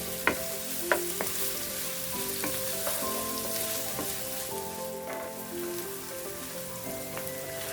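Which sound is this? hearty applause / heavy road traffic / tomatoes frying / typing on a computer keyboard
tomatoes frying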